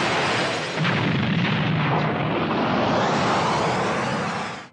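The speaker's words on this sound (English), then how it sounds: "The population of Earth went kaboom when Kid Buu decided to flex his new form" A huge cartoon explosion from a Dragon Ball anime scene, where Kid Buu destroys the Earth, roars as one continuous loud blast with a dense rumbling low end, sustained for several seconds before cutting off.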